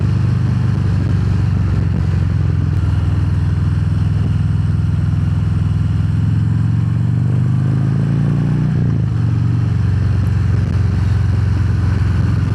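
A Harley-Davidson Fat Bob 114 with a 6-speed gearbox rumbles steadily on a highway, its deep V-twin drone loud and constant with a brief gear change around the middle, and no talk over it.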